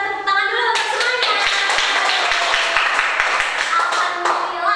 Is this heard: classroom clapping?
yes